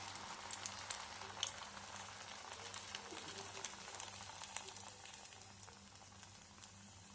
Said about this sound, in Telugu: బాగా వేడైపోయింది ఆయిల్. గారెల్లాగా వేసేస్తాను.